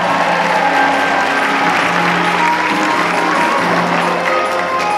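Dense, steady audience applause fills a cosplay contest stage at Supanova Perth 2015, honoring a cosplayer in body paint. The clapping stays loud and even throughout, with a faint hum of crowd noise beneath.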